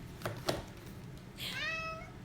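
A cat gives a single drawn-out meow, rising then falling, after a couple of soft taps and handling noises in a quiet indoor room.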